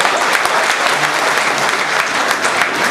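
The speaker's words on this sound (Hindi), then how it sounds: "अगर अच्छा लग रहा है एक बार तालियां बजाते हैं" Loud, dense audience applause at a school silver jubilee celebration during poetry recitation, a continuous close wall of many hands clapping at steady intensity for the whole stretch.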